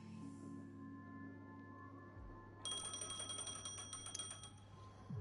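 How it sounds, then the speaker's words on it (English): A phone rings in the Honkai: Star Rail video game, a bright, rapid repeating electronic trill that starts midway and carries on steadily over a low sustained musical drone. "It's ominous. A phone."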